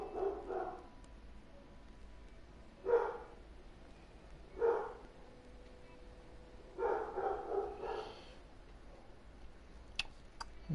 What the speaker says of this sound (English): My dogs, they bark at everything.